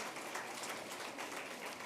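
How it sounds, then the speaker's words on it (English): Brief, faint crowd applause at the National Batho Pele and Innovation Awards, an even wash of many hands clapping for award winners, heard from a distance. "A round of applause to all of our people"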